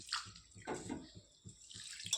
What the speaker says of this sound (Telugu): తర్వాత వాటర్ వేసి ఒక 2 సార్లు బాగా శుభ్రంగా కడుక్కోవాలి